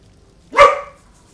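A single loud, close dog bark, short and sharp, against a quiet background.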